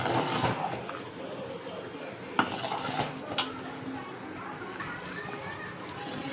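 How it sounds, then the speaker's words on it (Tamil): Carrot halwa being stirred with butter and nuts in a pan, giving steady scraping and clinking of a spoon against the metal, with a couple of sharper knocks, close up and moderately loud against a busy kitchen background. "நம்ம எடுத்து வச்சுருந்த நட்ஸும் இதில் போட்டு நல்லா கிண்டி விட்டுக்கலாங்க."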